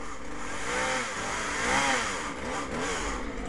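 A chainsaw roars nearby while crews fell a tree, its engine note surging and dipping in uneven rises as it bites into the wood, loud and continuous throughout.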